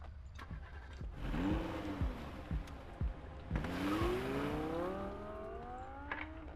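A service car's engine in the video game Zoochosis cranks and catches, then settles into a rising, revving drone with a few sharp clicks layered over it, fairly quiet and with no talking.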